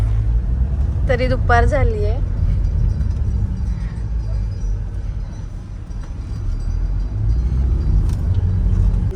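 Road traffic rumbles steadily during a Veer yatra trip, a low continuous drone of car and bus engines with a brief honk-like tone early on, while a person speaks over it.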